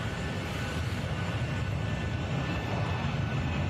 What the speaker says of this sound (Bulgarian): Ето как излита Австралиев